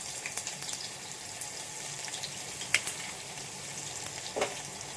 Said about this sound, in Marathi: आता टाकते मी लसूण